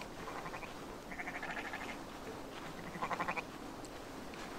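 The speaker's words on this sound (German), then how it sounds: "Alles nur Schafe hier." Sheep in the video game Assassin's Creed Valhalla bleat in two short bursts of wavering calls, one after another at moderate volume, over a steady hum of game ambience.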